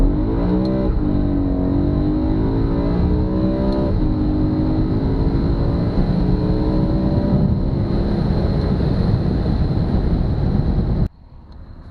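A KTM 500 EXC dirt bike or BMW M3 pulls hard in first gear toward about 16 mph, engine note climbing steadily in a loud, close, continuous roar before cutting off abruptly near the end.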